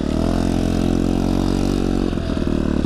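A small scooter engine hums steadily at close range while riding, a constant buzzing drone with a slight rougher pulsing near the end, no talk over it.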